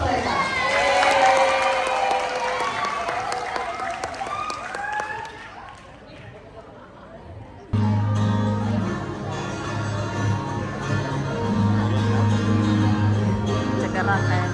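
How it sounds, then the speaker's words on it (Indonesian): Children at a school graduation celebration clap and cheer in a lively crowd, bright shouts and applause at first, fading lower, then a sudden louder stretch of crowd noise with a steady hum under voices. "Mari kita beri semangat dan tepuk tangan yang meriah untuk mereka."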